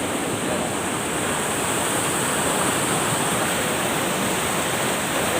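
Floodwater rushes loudly in a constant, dense roar, like a swollen river surging close by after very heavy rain, with no voices.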